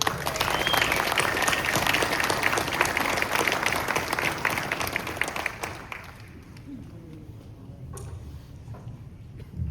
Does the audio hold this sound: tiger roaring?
no